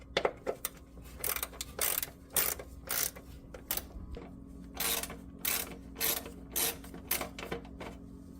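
Ratchet wrench with a 10 mm socket turning car bolts, a series of short, close ratcheting bursts with brief pauses between them and no talking.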